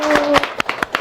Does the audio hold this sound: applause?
yes